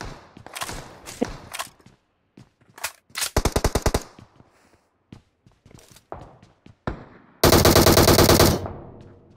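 Bursts of automatic gunfire and single shots in the battle royale game PUBG, loud and close, in short rapid volleys separated by quiet gaps with faint footsteps, ending in a long sustained burst.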